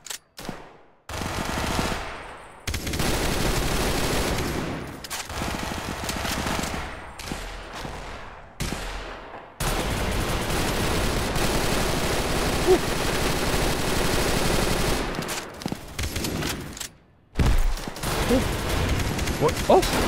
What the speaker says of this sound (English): Alright, Tommy gun works.